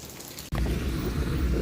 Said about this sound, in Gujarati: જો હજુ સવારનો વરસાદ એમને એમ જ છે